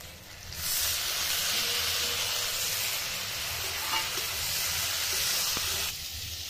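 Capsicum, carrot, onion and green chili stir-fry in hot oil with fried potatoes for a homemade egg vegetable chowmein, giving a loud, steady sizzle that starts suddenly and holds for several seconds before easing off.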